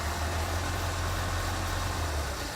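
A car engine idles steadily as spray is fed into its carburetor and foams up, giving a continuous low, even drone with no talk.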